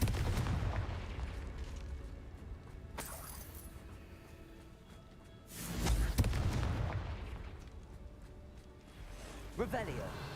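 Confringo blasting spells exploding in the Hogwarts Legacy video game: a few sharp booms and bursts, the loudest around the middle, amid game noise with a voice speaking at times.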